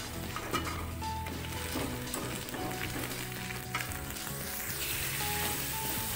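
Indomie noodles cooking in a pan with a little water, sizzling steadily while being stirred, with occasional scrapes and knocks of the utensil against the pan.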